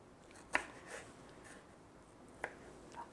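A knife slices cherry tomatoes into quarters, giving a few faint, sharp taps against a board with quiet pauses in between.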